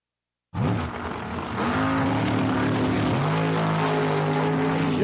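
A dragster engine bursts to life at Empire Dragway, a loud sustained roar with rising engine tones that climb and settle into a steady, powerful drone, close and without voices.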